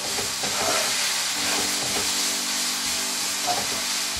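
Crushed garlic and onion frying in a pan, a loud, steady hiss and sizzle throughout with slight stirring movement and no speech.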